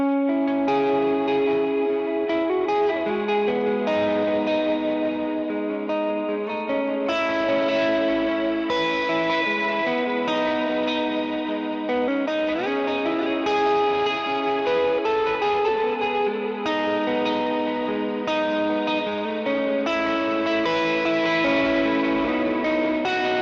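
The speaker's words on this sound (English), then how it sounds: "I've got a heavier reverb, and let me show you a little bit of what that sounds like" An electric guitar plays sustained chords and notes through a BigSky reverb pedal, drenched in heavy, washy reverb that smears each note into a long shimmering tail.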